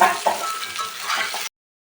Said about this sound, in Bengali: দেখুন আমার বেগুনগুলো ভাজা হয়ে গেছে আপনারা ঠিক এইভাবে বেগুনগুলো ভেজে নেবেন